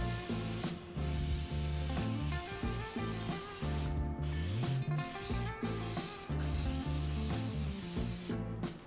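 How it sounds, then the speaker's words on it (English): Repeated close hissing spray bursts from an olive oil aerosol can onto chicken tenders, several pulses in a row with brief pauses, over a constant low hum. "and then spray the other side."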